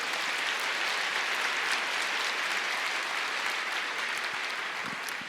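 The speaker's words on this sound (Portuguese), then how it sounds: "Você pode dar uma salva de palmas para Jesus?" A church congregation at a sermon gives sustained applause, a thick wash of many hands clapping evenly and fairly loud, with no talking over it.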